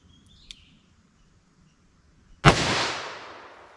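.327 Federal Magnum revolver with a 4 1/4 inch barrel firing a single sharp gunshot, loud and close, with a long decaying echo tail after a brief faint click.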